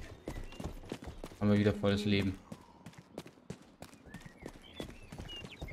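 Horse hooves clip-clopping in the western video game Rustler, a rapid regular patter of hoofbeats with someone speaking briefly over it partway through.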